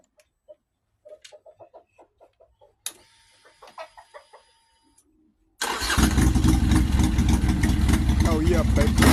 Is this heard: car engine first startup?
yes